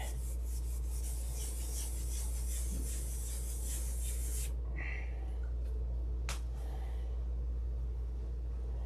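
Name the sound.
hand sanding a urethane finish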